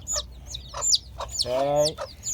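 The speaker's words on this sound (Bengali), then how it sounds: "টুমিটি, আমার মুটকু, আমার মুরগি তোমার কাছে তো যাও, ওকে ভ্যাকসিন দিয়ে দিই।" A chicken clucks repeatedly at close range, with one longer, drawn-out squawk in the middle, along with some brief chirpy sounds.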